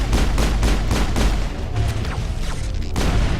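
Rapid bursts of gunfire in a Mass Effect firefight, loud and close, repeating in quick volleys with sharp cracks over a low rumble, no talking.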